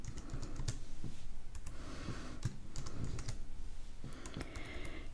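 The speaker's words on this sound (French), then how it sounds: "j'utiliserai les flèches du clavier" Computer keyboard keys, likely the arrow keys, tapped while moving between cells of a Numbers spreadsheet, a steady run of quick, close clicks with irregular rhythm and no voices.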